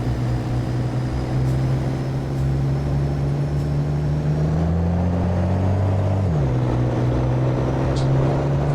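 A Ford F350 truck engine in a video game drones steadily at low pitch, its tone rising briefly as it revs, then settling back to a constant hum.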